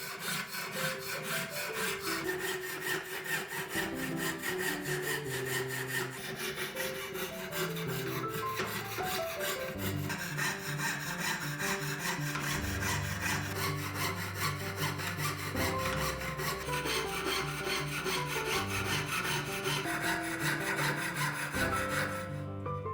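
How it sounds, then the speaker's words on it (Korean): Steady back-and-forth sawing as a jeweler's saw cuts a brass plate, a continuous rasping scrape with bright metallic overtones, close and uninterrupted throughout. "이제 황동판을 세공용 톱으로 잘라줍니다."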